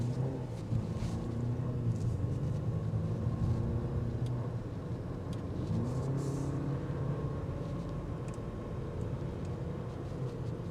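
A 2025 Audi A5 Premium Plus with a seven-speed S-tronic dual-clutch automatic on a test drive gives off a steady, moderate low engine and road drone from inside the cabin, with no voices.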